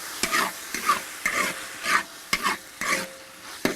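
Eel pieces stir-fried in a wok with pickled chilies and sour radish, giving repeated scraping stirs about every half second over a steady sizzle, close and fairly loud, with no voices.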